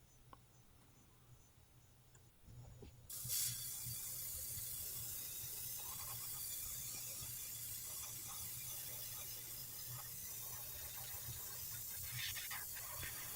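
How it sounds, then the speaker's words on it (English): Close, steady hiss of an airbrush spraying paint onto a jointed crankbait fishing lure, starting abruptly after a quiet stretch and continuing evenly, with faint handling noises underneath. "spraying it all over evenly with this color"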